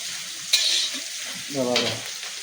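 Duck meat cooking in a pan at an outdoor picnic, a loud bright sizzle that flares up sharply, with a brief low scraping stir toward the end.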